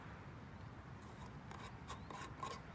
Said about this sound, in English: unscrew the top or the lid off of the stove